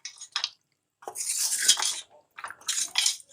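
A spoon works mutton and yogurt around a pot, with scraping, clinking strokes in short bursts separated by brief pauses, close and fairly clear.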